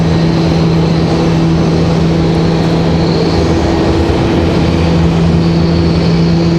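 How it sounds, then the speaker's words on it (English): A Republic Airways airliner readies to roll at Raleigh-Durham International Airport, with a loud, steady engine drone and low hum filling the scene throughout, no voices. "you can see Republic Airways getting ready to roll there at the top of your screen"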